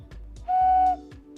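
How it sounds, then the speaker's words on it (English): A larger homemade mini whistle gives one steady lower-pitched toot lasting about half a second, loud and close, between soft handling thumps. "these ones are a little bit larger whistles, so they're gonna sound more of like a lower tone"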